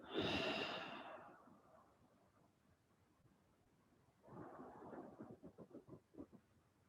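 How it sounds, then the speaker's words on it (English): A slow, breathy exhale during a breathwork session, soft and close, followed by quieter rhythmic breaths that pulse gently before fading; no speech. "Relax as you breathe out."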